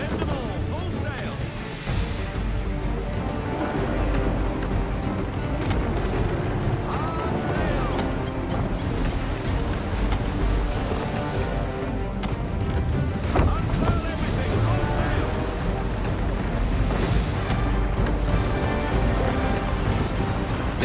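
Sailing ship at full sail in Assassin's Creed III, with steady wind rushing past and waves washing against the hull throughout, loud and continuous under shouted orders from the crew.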